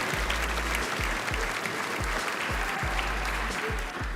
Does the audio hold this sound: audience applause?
yes